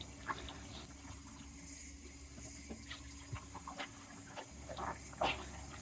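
Soapy water squeezed out of a goalie glove, close, faint, irregular squelches and sloshing drips over a constant hiss of running water, with no talking.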